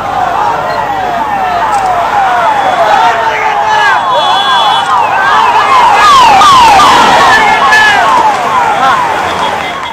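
An ambulance siren wails in rapid, repeated up-and-down sweeps, loud and continuous, as the vehicle carries donated organs along a national highway cleared for it, bound for Gannavaram.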